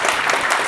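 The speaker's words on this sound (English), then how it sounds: "So just would ask you for a big applause because of her." Audience applause at a DevFest tech talk, a steady wash of clapping from a crowd welcoming the speaker's sister as a special guest, continuous and fairly loud through a very short moment.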